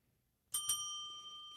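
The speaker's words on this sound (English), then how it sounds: "Ding the bell." A bright metallic bell, like a bicycle bell, strikes twice in quick succession and then rings out with a sustained tone over near silence.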